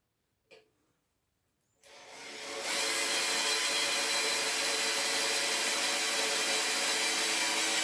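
A power drill with a 13 mm chuck and a small bit, used while building a motion platform at home, starts after a faint click, spins up and drills with a steady loud whine that holds to the end.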